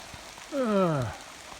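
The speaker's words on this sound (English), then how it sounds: "Well, it's raining harder now." Rain falling during farm chores near a fence and cattle, a steady soft hiss throughout, with a single brief descending animal call rising above it midway.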